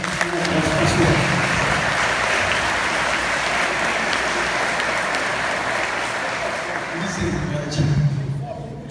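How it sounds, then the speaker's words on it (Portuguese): Sustained applause from a church congregation welcoming guests to a worship service, steady and dense for the whole stretch, with a brief swell near the end and some voices mixed in underneath. "então vamos recebê-los com uma salva de palmas."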